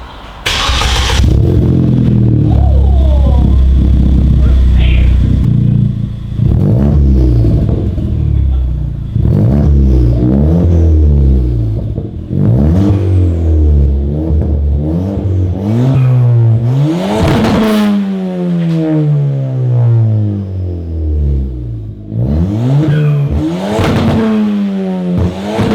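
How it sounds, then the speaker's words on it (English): A Ford Fiesta ST180 track build fitted with a Yakuza Outlaw WRC exhaust starts up and revs hard again and again, its loud, raspy engine note climbing and falling in repeated sweeps close to the car. "So you can clearly hear my exhaust is too loud."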